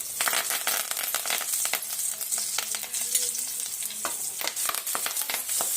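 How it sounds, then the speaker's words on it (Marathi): Ginger, garlic and curry leaves fry in hot oil, a loud crackling sizzle with dense spattering pops and quick stirring scrapes, close and continuous with no talking. "तेल घालून गरम करून घेतलं आहे आणि हे आलं लसूण घालून थोडं परतून घ्यायचं आहे"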